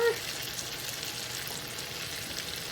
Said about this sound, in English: we're going to saute these up